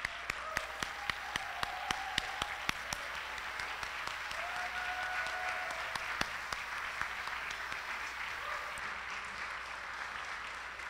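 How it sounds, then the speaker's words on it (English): Sustained applause fills a room of luncheon guests at a Principal for a Day event, steady dense clapping with a few sharper claps standing out, continuing for the whole stretch with faint cheering mixed in. "There's a lot of cheering in the room."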